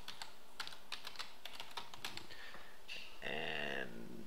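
Someone types a password on a computer keyboard: a quick run of crisp, close key clicks in an uneven rhythm, followed by a brief high squeak near the end.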